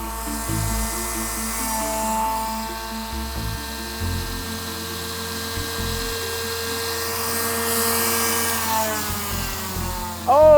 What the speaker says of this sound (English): it's a mini disc sander, and this one's Chicago Electric, which means it comes from our friends at Harbor Freight